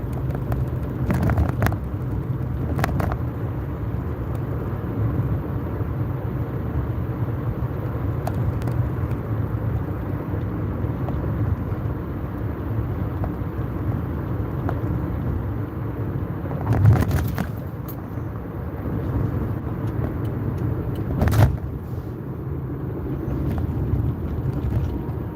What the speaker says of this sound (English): There's a lot of cars on the road still for this time of night